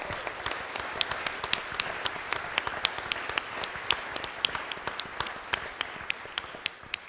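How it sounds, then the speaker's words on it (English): Audience applause at a live healthcare-under-fire event, a dense steady patter of clapping with sharp individual claps standing out, sustained at moderate level throughout. "They deserve your applause."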